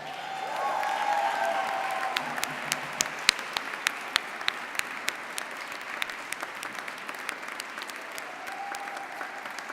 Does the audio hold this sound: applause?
yes